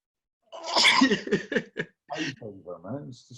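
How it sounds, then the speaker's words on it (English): A single sharp sneeze bursts out near the start, followed by someone talking and a short laugh close to the mic. "that's what's caused a bit of sneeze"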